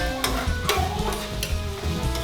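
Ground beef with onions and garlic sizzles steadily in a pan for a lasagna filling, with a spoon scraping and stirring through it in several loud, close strokes.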